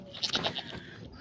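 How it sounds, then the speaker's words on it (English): Baby goats on a farm bleating, several short high cries in quick succession, fairly close but soft, with no talking. "baby goats bring all the joy"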